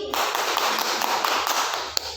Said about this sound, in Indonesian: tepuk tangan buat Nahasti.